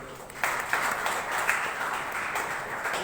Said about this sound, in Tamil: அவருக்கு ஒரு பெரிய கைத்தட்டு கொடுப்போம்